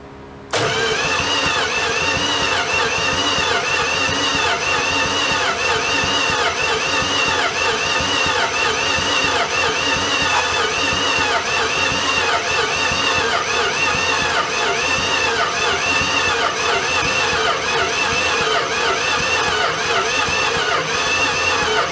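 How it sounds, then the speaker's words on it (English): A 1988 Dodge D100 pickup engine cranks over continuously for a long stretch without catching or building oil pressure, a steady rapid mechanical churning, close and loud, with no talking. "we're just gonna crank it over and see if it has any oil pressure"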